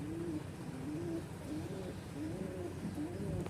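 Pigeons being sold at the Munshiganj launch ghat coo in low, repeated rolling calls, several overlapping in quick succession and sounding close by.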